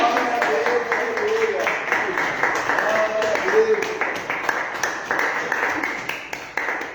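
Church congregation clapping steadily in praise, a loose rhythmic patter of hands with singing and voices mixed in throughout.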